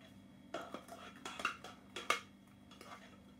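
Vegetable purée dressing being mixed into chopped greens in a bowl makes a quiet sequence of soft, wet clinks and scrapes from a utensil, arriving in uneven bursts.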